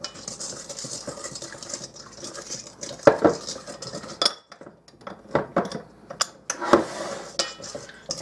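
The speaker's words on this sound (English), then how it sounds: "Just going to give this a little stir." Yeast mixture stirred in a bowl with a utensil, soft scraping swishes broken by sharp close clinks against the bowl at irregular intervals, fairly quiet, no talking.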